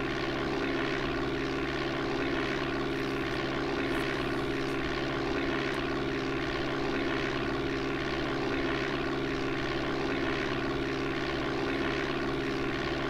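Steady propeller aircraft engine drone from the DOS game Flight Simulator 5.1, a loud continuous buzzing hum that holds an even pitch throughout with no speech.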